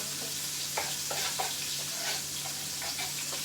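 Onion sizzles as it sautés in a pan while turnip greens are being cooked, producing a moderate, steady crackle with occasional scraping stirs and no talking.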